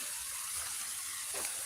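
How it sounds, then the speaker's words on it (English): Water runs steadily somewhere in the woods as a continuous broadband hiss and rush, close and fairly loud, with no voices. "if you guys can hear that water running"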